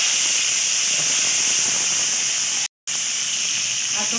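Mango pieces dropped into hot oil already crackling with tempered mustard seeds and dried red chillies, giving a loud, steady broadband sizzle that stops briefly and then resumes, with no talking.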